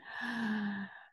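A single deep breath drawn in, a soft breathy inhale about a second long that swells and then fades, heard close and alone.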